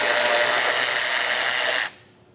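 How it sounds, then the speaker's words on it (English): A power tool spins a 15mm socket to remove a bolt during an underbed gooseneck hitch install on a 2021 Chevrolet Silverado, a steady close whir lasting about two seconds before stopping abruptly. "I have a 15mm socket. Just going to remove this bolt on either side"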